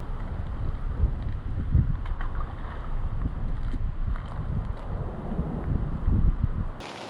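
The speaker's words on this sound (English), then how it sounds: "gusting winds and rain" Gusting wind roars against the microphone at a lake, with rain in flat calm between gusts: a loud, continuous buffeting rumble that swells and eases for several seconds before cutting off abruptly.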